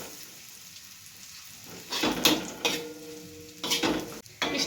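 Vegetables frying in a pan for veg dum biryani, stirred repeatedly until brown: metal spoon scrapes and clinks against the pan in irregular bursts over a soft, steady sizzle.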